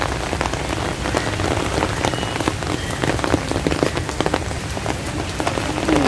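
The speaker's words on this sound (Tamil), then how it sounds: "சரியான மழை, கொஞ்சம் கொஞ்சம் மழை இல்லை, பிச்சு உதறுது." Heavy rain pours steadily and loudly outside a garden in Palakkad, India, a dense continuous hiss of drops hammering surfaces with no talk over it.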